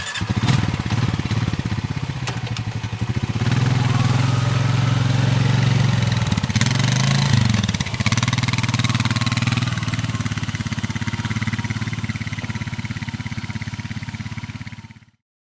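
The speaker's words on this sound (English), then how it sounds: "I'm out here mowing some clover fields today" A mower engine runs steadily while cutting clover fields on a ranch, a loud continuous mid-pitched drone with slight revving shifts, close by and constant for the whole stretch with no talking.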